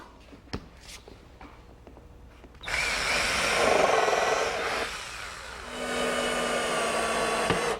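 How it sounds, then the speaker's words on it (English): A power drill driving screws to fasten the handle onto a boat daggerboard, a steady loud whirring motor run of several seconds after a few light taps, close up with no talk. "I'll fasten it with some screws and plug the holes"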